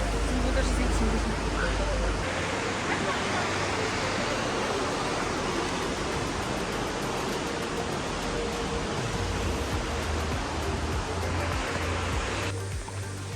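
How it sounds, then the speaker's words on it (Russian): A full mountain waterfall cascades in Kabardino-Balkaria, giving a steady, loud, close rushing roar of falling water with no break through the whole stretch. "Там еще один водопад. Если он полноводный, то там прям каскадом таким падает."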